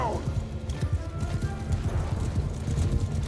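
Horses gallop in a Mount and Blade II: Bannerlord battle, a dense run of hoof clip-clops over battle noise with a brief whinny, near and loud throughout.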